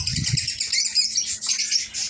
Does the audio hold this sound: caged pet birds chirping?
yes